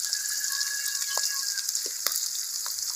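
Ground onion, garlic and cumin paste fries with chopped onion and green chillies in a wok on a clay stove, making a bright, continuous hiss with scattered small pops and stirring clicks.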